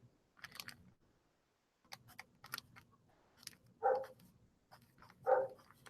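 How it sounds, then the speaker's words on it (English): Dogs outdoors giving two separate barks a little over a second apart, fairly faint and distant, amid light clicking and rustling sounds, with no talking. "Dogs barking because, you know,"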